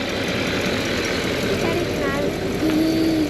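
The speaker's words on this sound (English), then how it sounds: "The pesky exhaust leak is still there." A 1956 Cadillac Sedan DeVille idles close by with an exhaust leak, giving a steady, rough, puffing rumble throughout, joined by a brief whistling tone near the end.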